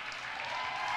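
Steady applause from an audience, a dense wash of clapping that holds evenly for the whole second.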